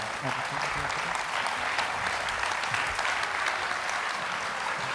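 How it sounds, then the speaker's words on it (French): Audience applause at a public health conference on staying active, a steady wash of many hands clapping that runs through the whole stretch, with a voice speaking over it near the start. "on les applaudit parce que c'est pas toujours facile"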